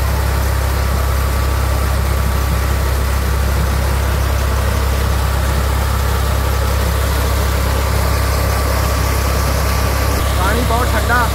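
A tractor engine drives a tube-well water pump on a farm, a steady, loud low idle-like rumble running throughout, with faint voices near the end.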